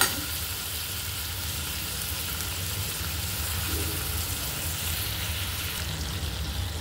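Spices for village-style mutton dry-roast in a pan with a soft, continuous sizzle and faint stirring, steady and close, with no talk.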